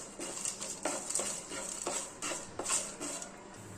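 Urad dal, chana dal, mustard seeds, cumin and red chilli fry in hot groundnut oil as a tempering, giving close, soft crackling pops and spatters with light clinks of a pan and spoon throughout.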